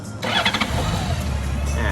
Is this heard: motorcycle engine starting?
yes